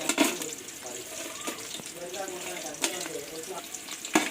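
Whole spices sizzling in hot oil with onion and green chili for a biryani and chicken curry, a steady close crackle with a few sharper spoon clinks and scrapes; a voice talks softly at times.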